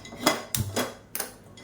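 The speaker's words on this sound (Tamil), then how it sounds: "இப்போ ஒரு கடாய் எடுத்துக்கலாம்." A metal kadai is picked up and set down for cooking, giving three sharp clanks of cookware in quick succession, close and clear with no talking.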